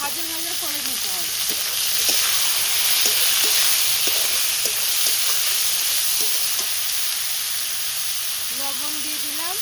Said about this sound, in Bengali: উচ্ছে আলুটা একটু ভাজা ভাজা করে নিতে হবে।